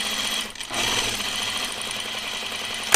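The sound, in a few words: sewing machine stitching side seams of a tunic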